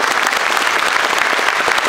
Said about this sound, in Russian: Ваши аплодисменты нашим гостям.